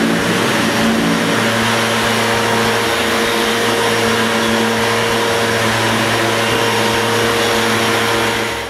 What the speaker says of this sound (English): I start vacuuming them and the surrounding wall.